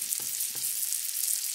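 Mahi-mahi fillet searing in a hot pan with a steady, fairly quiet high sizzle and a couple of soft low knocks near the start, no voices.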